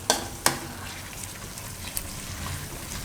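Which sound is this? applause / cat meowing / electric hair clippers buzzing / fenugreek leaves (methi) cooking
fenugreek leaves (methi) cooking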